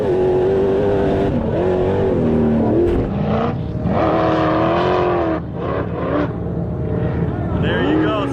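An engine on a sand car revs and pulls as the car drives, loud and close, with rising and falling pitch and varying throttle throughout.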